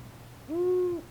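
An owl gives a single clear hoot, a short sustained tone rising in the middle of the clip against a quiet background.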